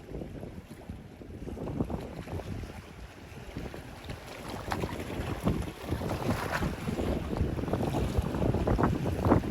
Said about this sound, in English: That breeze is definitely picking up, that's for sure